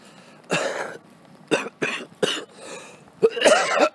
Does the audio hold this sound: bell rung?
no